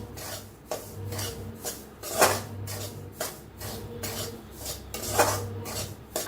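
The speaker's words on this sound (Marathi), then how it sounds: "रवा आपला छान एकदम असा भाजला या गॅस कम करून असा छान भाजला" Semolina (rava) roasting with ghee in a pan on low gas is stirred with rhythmic, close scraping strokes about twice a second, an even rasping back-and-forth with occasional louder scrapes.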